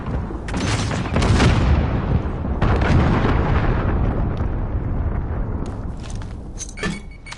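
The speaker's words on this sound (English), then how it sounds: "Allied cruise missile launched" A loud, sustained roaring blast from an allied cruise missile launch in a Modern Warfare video game, holding steady for several seconds before thinning into scattered crackles.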